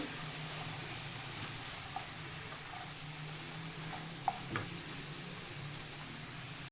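Three to four medium tomatoes frying in a pan for paneer butter masala, giving a steady, soft, hissing sizzle throughout with a few faint utensil taps near the end and no talking.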